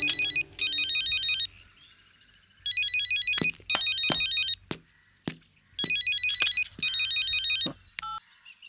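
A phone rings in a movie scene, repeated electronic ringtone bursts with gaps between them, mixed with a few sharp knocks and thuds.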